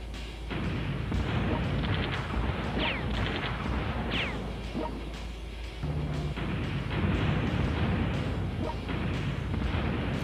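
Bombardment explosions in the strategy game World Conqueror 4 land as a steady barrage of booms and crashes, with whooshing projectiles and sharp impacts scattered over a loud, rumbling bed of noise.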